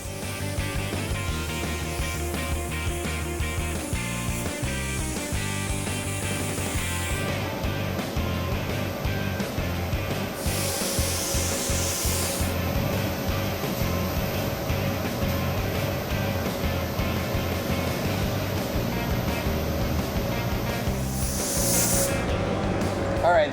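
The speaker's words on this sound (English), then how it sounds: "For the blue, we'll lay down 2 to 3 medium wet coats to get a uniform coverage" A spray gun hisses in long, steady bursts as medium wet coats of blue paint go onto a Honda Civic hatchback rally build, with music playing throughout and a voice talking at times.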